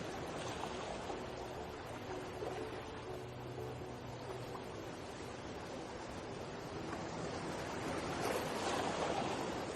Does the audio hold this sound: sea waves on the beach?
yes